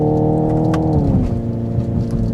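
A 2025 Hyundai Ioniq 5 N electric hot hatch accelerates, its enhanced synthetic engine sound loud and continuous, with a layered tone that climbs and then settles into a steady drone, no talking.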